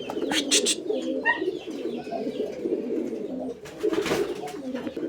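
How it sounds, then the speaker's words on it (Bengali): Pigeons coo in low, throaty, repeated phrases at a bird market, near and fairly loud, with brief chirps and rustling around them. "প্রিয় দর্শক আমরা এই মুহূর্তে দেখতে পাচ্ছি এখানে একটা কবুতর আছে"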